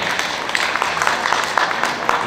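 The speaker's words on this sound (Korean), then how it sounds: "우리 이윤지 선생님 큰 박수로 환영해주시기 바랍니다" A concert audience welcomes a violinist with applause at a Korean art song healing concert, a steady wash of many hands clapping at moderate volume that stays even from start to finish.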